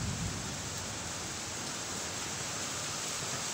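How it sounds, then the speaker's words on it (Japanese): Heavy rain growing steadily heavier, a dense continuous hiss of downpour filling the whole clip at an even, fairly loud level with no voices. "雨の量増えてる"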